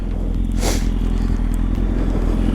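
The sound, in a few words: Kawasaki ZX-10R motorcycle on a test ride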